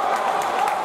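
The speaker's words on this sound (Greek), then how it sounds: "Χειροκροτήματα, χαμός." Crowd applause at a basketball game, a steady wash of clapping and noise filling the whole short moment without clear breaks.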